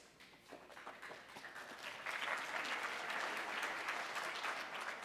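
Conference audience clapping, distant and fairly soft, rising after a couple of seconds into steady, dense applause that holds to the end without voices over it.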